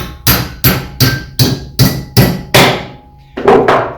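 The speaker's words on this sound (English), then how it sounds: "I can put this piece of metal in the vice and do it up tight, and I can hammer it" A piece of metal clamped tight in a workshop bench vice is struck with a hammer about eight times, loud ringing blows in a fairly steady rhythm with a short pause before the final pair.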